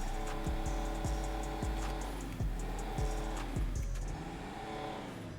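Vapid Sandking XL off-road truck engine in GTA Online, revving in repeated loud bursts over a steady rumble, each throttle blip rising and falling with no one talking.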